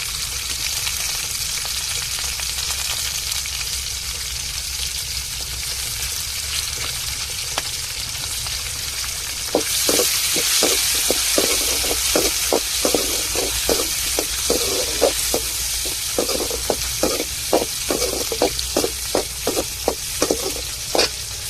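Tomatoes sizzle in a pan for a fish curry with a steady, close frying hiss that flares brighter midway, followed by a rapid run of rhythmic spatula knocks against the pan under the continuing crackle.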